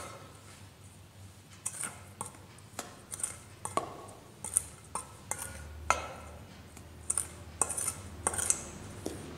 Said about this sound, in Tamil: பிசையறதுக்கு முன்னால நாம நல்லா கலந்துக்கலாம்